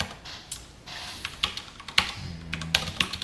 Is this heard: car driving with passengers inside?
no